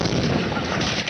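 Dense, continuous booming of artillery cannons across a war front near the Basantar river, loud and sustained with overlapping rumbles and blasts and no clear gaps between shots.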